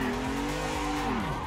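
Car drifting in a racing simulator game through a corner in third gear with clutch kicks: a constant loud engine drone with a sustained, pitch-shifting tire squeal, no talking.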